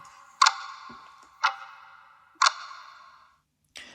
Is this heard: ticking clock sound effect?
yes